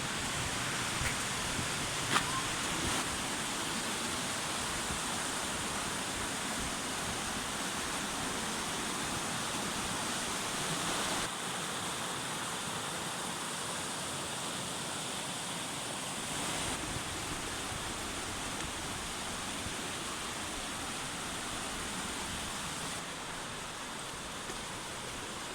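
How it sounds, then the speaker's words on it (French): A small waterfall pours through a rocky gorge in the Gorges de Carança, giving a steady, unbroken rush of splashing water, close and even in level from start to finish. "On est dans la roche. Avec petite cascade."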